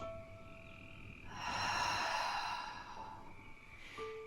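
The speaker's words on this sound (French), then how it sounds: "Puis j'expire par la bouche." A person exhales slowly through the mouth during a Pilates breathing exercise, a soft airy sigh rising and fading, quiet and close.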